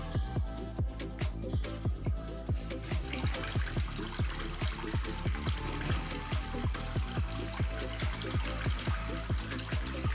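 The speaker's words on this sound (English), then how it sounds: "the soothing sound of flowing water relieves stress and is relaxing to our environment" Water pours and splashes continuously through a small motor-driven model fountain, a steady close trickling with regular dripping pulses throughout.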